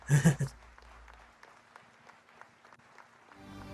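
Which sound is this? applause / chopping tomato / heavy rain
applause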